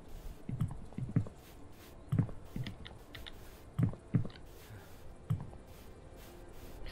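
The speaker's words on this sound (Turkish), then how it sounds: "Klavye sesi gibi bak." Computer keyboard and mouse clicks sound in irregular clusters of sharp taps over several seconds, close and moderately loud against a soft background hum.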